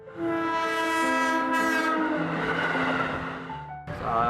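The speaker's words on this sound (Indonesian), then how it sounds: "Apalagi kalau keretanya lagi ngebut atau bunyi klaksonnya panjang." A commuter train roars past in Jakarta, sounding a long, loud, steady horn blast that holds for most of the passage before cutting off near the end.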